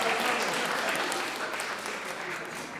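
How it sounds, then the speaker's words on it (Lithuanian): Audience applause in a hall, a dense steady burst of clapping from many people that fades slightly toward the end, with no talk over it. "Aplodismentai!"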